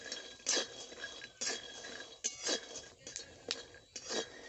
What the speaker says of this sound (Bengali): কড়াই গরম হতে আর বাদামগুলোতে তাপ লাগতে কত সুন্দর বাদামগুলো ফাটছে দেখুন এই দেখুন শব্দ হচ্ছে